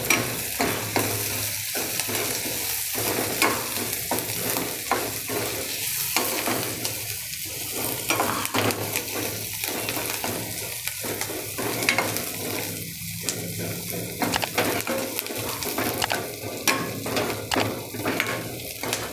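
Eight to ten cashew pieces fry in a yogurt tadka, a continuous close sizzle broken by repeated scraping stirs of a spoon against the pan, with no voices.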